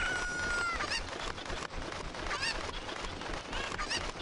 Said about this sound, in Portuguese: Vem aqui, galinha.